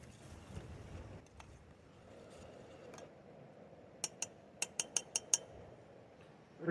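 Rice pilaf mix stirred in a metal pot gives a quiet, soft scraping, then a quick run of about seven sharp, bright clinks of a utensil against the pot, close and faint.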